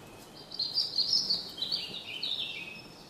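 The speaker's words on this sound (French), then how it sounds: "un couple de mésanges noirs qui régale ses petits de chenilles bien grasses" A pair of coal tits in an oak tree, feeding their young, give high, thin chirps and twittering calls in quick bursts that come and go in a quiet woodland, fairly close.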